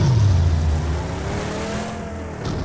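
A car engine revs hard in PUBG Mobile, a loud close roar that drops in pitch and settles into a steady hum, with no speech.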